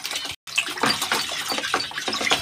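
Water being stirred and swirled as a capful of Borofin syrup is mixed into a container of water for pet lovebirds, a close, continuous splashy sloshing with brief gaps.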